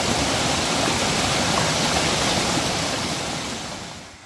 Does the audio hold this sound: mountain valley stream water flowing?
yes